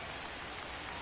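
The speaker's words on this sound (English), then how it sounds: "the field's not going to be able to hold up if the rain gets any worse than this" Rain falls on the ballfield in MLB 24 The Show as a dense, even hiss of drops, continuous and unbroken.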